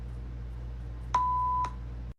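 A single steady electronic beep marks the start of timed speaking in a simulated IELTS test, a clean tone lasting about half a second, with a faint hum before and after and no voices.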